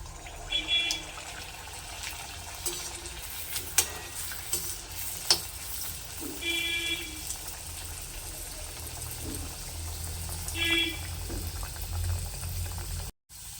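Paneer kachori deep-frying in a pan of hot oil gives a steady bubbling sizzle, with a few faint clinks and soft handling sounds over it.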